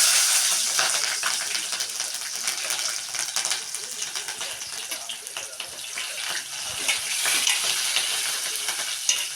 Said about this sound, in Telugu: ఇగో పుదీనా కొత్తిమీర మిర్చి ఆనియన్ అయితే వేస్తున్నా.